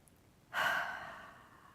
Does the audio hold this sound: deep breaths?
yes